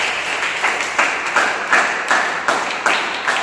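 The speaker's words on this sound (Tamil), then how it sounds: "கையை தட்டு." A church congregation at a Sunday service claps hands in a steady rhythm, with roughly one accented clap burst every half second over a dense, reverberant wash of crowd clapping.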